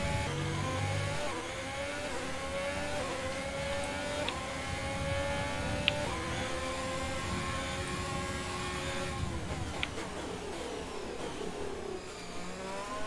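A Formula 1 car's engine screams in F1 2020 on a long straight, its high-pitched whine climbing steadily through the gears with brief shift dips, loud and continuous without voices.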